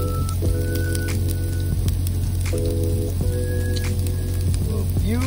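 Onions sizzle and hiss steadily in a hot pan on a semi truck's cab cooktop, a continuous frying crackle with faint clinks and a steady hum underneath.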